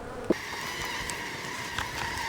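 Honey bees buzz in a steady, close drone around beehive frames lifted from a hive body during a hive rotation, with a single sharp knock early on and no talking.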